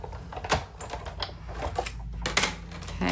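A cutting machine makes repeated passes over craft material, giving irregular clicks, taps and short mechanical whirs close by.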